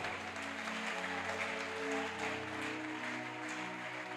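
A church congregation applauds during a Sunday service, giving a steady wash of clapping from many hands. The applause continues evenly and fairly distant for the whole stretch, with no speech on top of it.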